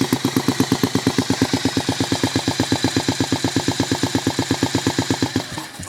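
A homemade four-stroke engine runs at a steady idle, firing in loud, evenly spaced pulses close by, then the beat falters and fades out near the end.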